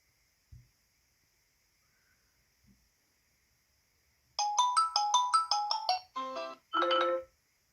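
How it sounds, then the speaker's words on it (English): A Xiaomi Mi Mix 3 system ringtone plays after near silence, a bright electronic melody of quick repeated tones that ends in a few short chimes, heard clearly and alone. "System ringtones."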